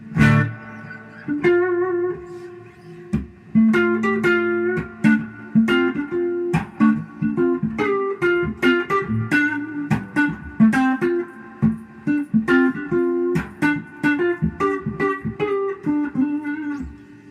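El Degas Telecaster electric guitar played through a Princeton Reverb amplifier, a run of plucked notes and chords with clear harmonics, steady and close, no voices.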